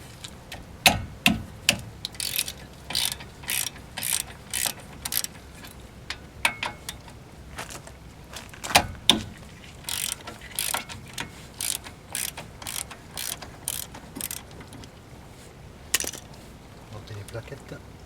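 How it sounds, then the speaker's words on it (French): A hand ratchet clicks in quick bursts of pawl ticks while 17 mm caliper bracket nuts are removed on a Hyundai Santa Fe brake job, repeated short rattling strokes with brief pauses, close and fairly loud. "Maintenant, on va passer au démontage du support de l'étrier. Là, ce sont des écrous de 17."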